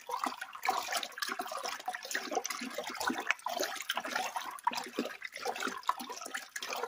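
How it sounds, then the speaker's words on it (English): Crushed grapes being stirred for wine, giving a continuous wet sloshing and squelching at moderate volume with no talking. "I'm going to stir this incessantly here for a bit."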